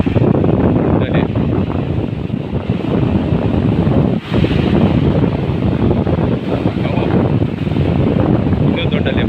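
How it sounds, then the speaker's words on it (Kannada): Big ocean waves surge and crash in a loud, continuous roar, with heavy wind buffeting the microphone and a brief dip partway through. "ಇನ್ನೂ ದೊಡ್ಡ ಅಲೆ ಬಂತು."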